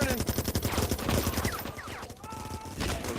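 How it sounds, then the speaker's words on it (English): Rapid gunfire and grenade blasts fill a multiplayer shooter match, dense overlapping bursts of shots throughout with a short lull near the end, under excited voices. "Grenades going in, shots going in."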